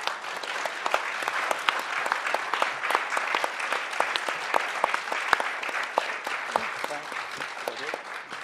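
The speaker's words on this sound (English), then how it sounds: "Y'all can applaud now if you'd like." Audience at a congressional candidates forum for New York's 21st District claps, a dense, even patter of many hands sustained throughout at moderate distance.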